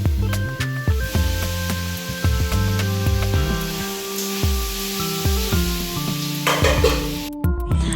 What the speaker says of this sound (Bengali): আগুনটাকে কমিয়ে দিয়ে আস্তে আস্তে করে নাড়া দিতে হবে